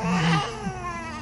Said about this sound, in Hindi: उस कमरे में किसी बच्चे की रोने की आवाज आ रही थी।